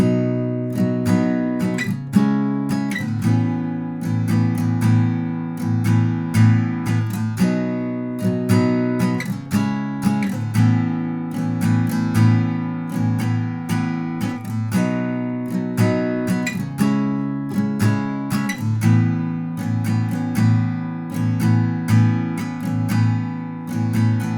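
An acoustic guitar strums the chorus chord progression of a song in a steady rhythm, full and close, with regular accented downstrokes and no voices.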